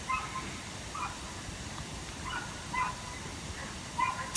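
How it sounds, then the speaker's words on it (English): Dogs bark and whimper faintly in the distance in several short scattered bursts over a quiet background. "dogs are barking or fighting."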